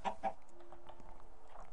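A chicken in a Minecraft modpack game clucks twice in quick succession, then gives a few fainter clucks, heard alone without talk.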